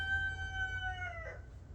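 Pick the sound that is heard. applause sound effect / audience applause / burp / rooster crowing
rooster crowing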